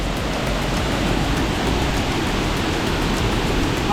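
Duli Ella waterfall in Sri Lanka roaring steadily as a dense, continuous wash of rushing water that holds at a constant loud level throughout, with no voices.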